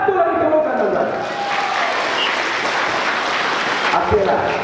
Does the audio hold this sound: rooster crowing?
no